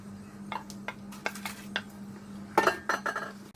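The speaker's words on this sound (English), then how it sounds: "add the prawn mixture to the pork mixture" Diced prawn mixture is stirred into pork mixture in a bowl for siu mai dumplings, giving a series of light clinks and scrapes of a utensil against the bowl, irregular and close, with a faint steady hum behind.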